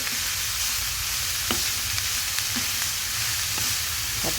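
Grated papaya (karmoos) upperi stir-fried in a pan gives a steady loud sizzle, broken now and then by the scrape of a spatula, with no one speaking.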